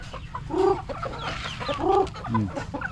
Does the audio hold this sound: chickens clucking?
yes